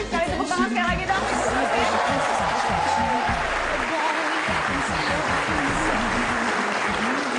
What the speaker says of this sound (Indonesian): Cantik sekali, tepuk tangan sekali lagi dong.